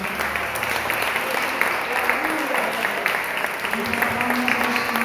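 A church congregation claps steadily and continuously throughout, with a Portuguese-speaking preacher's voice heard over the applause.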